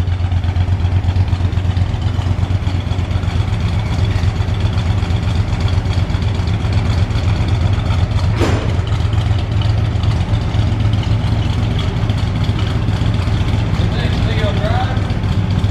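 A 1970 Chevrolet Chevelle barn-find V8 engine idles steadily with a deep, rumbling low throb and light clatter, loud and close, running evenly the whole time.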